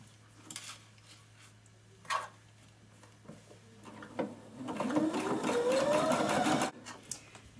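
Sewing machine stitching the edge of fabric for a shirt extender, a few short taps and bursts before a sustained run of rapid mechanical stitching that stops abruptly.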